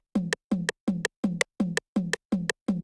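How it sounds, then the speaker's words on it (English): Two identical toms hard-panned left and right strike every off beat of a pop rock production, eight evenly spaced hits alternating with sharp metronome clicks, close and steady with no voices. "I have these 2 toms just hitting on all the off beats"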